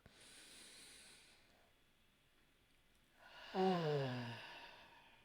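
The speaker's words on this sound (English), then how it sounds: "Deep breath." A deep breath drawn in slowly and let out in a long, audible sigh, close and fairly loud after a quiet stretch, with no talking over it.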